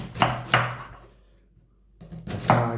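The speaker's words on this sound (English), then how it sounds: "I'm going to chop these cabbage up into as thin pieces as possible with this blunt, very blunt knife" A blunt kitchen knife chops through cabbage on a board in a few loud, close strokes, two quick cuts, a short pause, then another pair of firm knocks.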